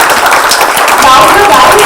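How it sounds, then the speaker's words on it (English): Audience applause at a book launch event, a dense wash of many hands clapping that fills the short span at steady loudness, with a voice faintly audible beneath it. "Ladies and gentlemen, a huge round of applause."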